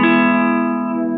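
A single strum of a C-shape guitar chord fretted with poorly placed fingers so it rings out of tune, ringing close and clear, then slowly fading over about a second with no voices.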